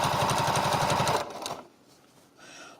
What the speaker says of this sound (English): I'm going to start with this 1/4 inch seam. Right, I'm going to sew.